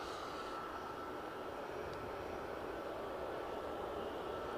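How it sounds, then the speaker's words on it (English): An inbound aircraft approaches Edinburgh airport during runway 24 operations, making a steady broad engine roar that holds at an even level from a moderate distance, with no voices. "Inbound aircraft."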